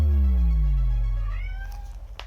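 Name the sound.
cat meowing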